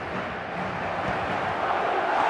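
A packed football stadium crowd in a video game roars as one steady, dense mass of noise, loud and unbroken for the whole stretch with no clear peaks.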